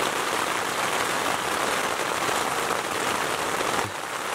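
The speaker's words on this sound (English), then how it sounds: "Rain's coming down hard tonight." Heavy rain pounds down at night following thunder and lightning, a dense, steady roaring hiss that stays loud and close throughout, with no voices.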